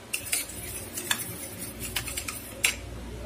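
Spoon clinking and scraping against a pot while gram flour batter is stirred into simmering coconut chutney, a series of light metallic taps and clatters at irregular intervals, close and fairly quiet.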